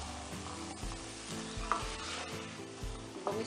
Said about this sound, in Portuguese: Vou misturando.